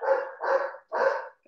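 Three loud barks from a dog nearby, the first two close together and the third after a brief pause.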